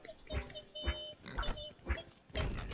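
Pigs oinking in the video game Creativerse, a string of short grunting oinks, close and distinct, repeating in quick bursts.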